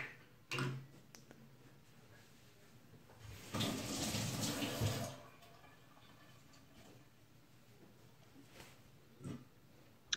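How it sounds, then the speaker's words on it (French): Tap water runs as hands are rinsed in a kitchen while making a courgette flan, a quiet splashing rush swelling for a second or two mid-clip between faint clinks and handling sounds. "On se rince les mains"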